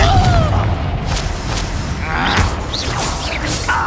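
Confringo blasting spell in Hogwarts Legacy, a deep booming burst with whooshing debris and magical swishes, loud and close amid game effects.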